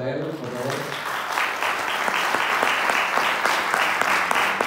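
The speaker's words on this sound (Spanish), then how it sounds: "Así que os pido un fuerte aplauso para él, por favor." A voice speaks briefly, then an audience at a Manu Marlaska event in Fuentes de Ebro breaks into loud, sustained clapping that builds and continues to the end.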